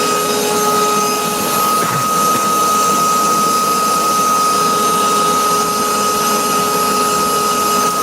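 A gas forge running on forced air at about 18 psi, hot enough for forge welding, gives a loud, steady, unbroken roar with a constant hum running through it.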